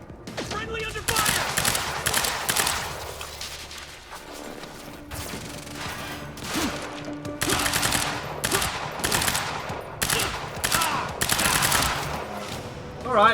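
Gunfire in the shooter game Quantum Break: repeated loud bursts and rapid volleys of automatic shots, densely packed and near, with a short lull before the firing resumes.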